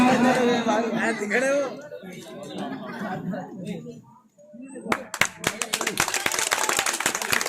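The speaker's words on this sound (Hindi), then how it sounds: "ताली बजवा दो।" An indoor crowd at a political gathering in Okhla breaks into close, loud, rapid clapping and applause after someone speaking over a microphone, with chatter and chuckles mixed in as the clapping continues to the end.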